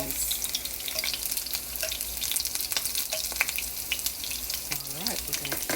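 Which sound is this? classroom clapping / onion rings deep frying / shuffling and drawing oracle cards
onion rings deep frying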